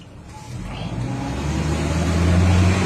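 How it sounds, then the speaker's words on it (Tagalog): A Ford Fusion car accelerates on a road test, its engine note building steadily from a low hum to a louder, rising drone over a few seconds, recorded close with no talking. "Ito na po yung final road test ng Fusion nya."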